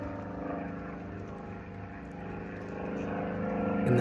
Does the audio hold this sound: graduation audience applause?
no